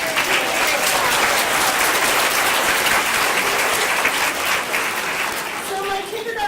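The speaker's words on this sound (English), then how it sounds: "I would also like to give a special round of applause to Mrs. Dorsey." Steady, dense applause from a school assembly audience at a kindergarten awards event, many hands clapping at once for over six seconds with no letup, loud and close with a faint murmur of voices underneath.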